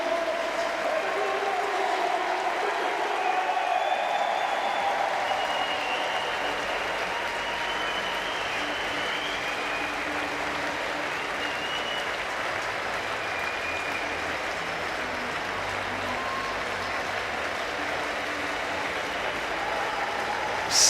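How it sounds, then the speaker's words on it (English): Stadium crowd giving a standing ovation after a men's bouldering final in Bern, sustained dense applause and cheering washing on for about twenty seconds, somewhat distant and steady, with faint voices in the mix. "Still the applause goes on."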